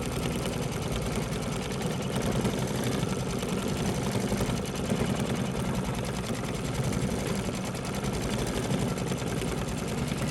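An embroidery machine runs steadily while stitching an edge-to-edge quilt, its fast, even needle chatter droning loud and close for the whole stretch with no talk.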